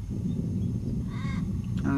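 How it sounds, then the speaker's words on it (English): Crows cawing at 6 a.m. in quiet, still rural Queensland countryside near Stonehenge, a couple of hoarse calls from a moderate distance over a constant low background rumble. "A few birds."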